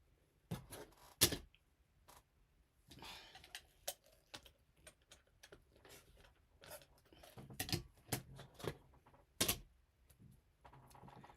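Scissors or a rotary cutter trimming a quarter inch of fabric off a quilt block, heard as a run of quiet, crisp ticking snips and taps spread irregularly through a calm room.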